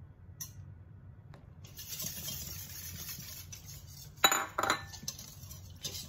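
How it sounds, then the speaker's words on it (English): Tapioca flour and water are mixed in a bowl, soft swishing stirs with a few sharp clinks of a utensil against the bowl, close and quiet with no talk. "Just try to mix first before adding the next ingredient."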